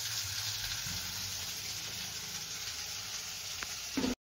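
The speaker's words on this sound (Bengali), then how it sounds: "এবার দেখো মুস্কান বিনস দিয়ে দিল, একটা একটা করে তিনটেই সবই ভেজে নেবে" Carrots, beans and capsicum fry in a pan with a steady, close sizzle that holds level for about four seconds before cutting off, with a faint clink near the end and no talking.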